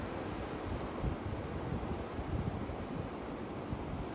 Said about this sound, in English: Look at the waves rolling in.